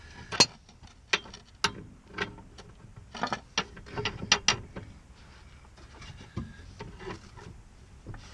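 A ratchet wrench for a Saab 9-5 wagon lift kit clicks in short bursts, sharp close-up ticks arriving in irregular groups, with quiet gaps between them.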